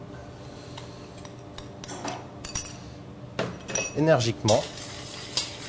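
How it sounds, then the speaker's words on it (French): Eggs whisked vigorously with sugar in a bowl for pastry cream, a whisk clinking and scraping against the bowl in quick uneven bursts that grow louder toward the end, with faint background noise. "Nous allons mélanger les œufs, c'est-à-dire blanchir les œufs avec le sucre"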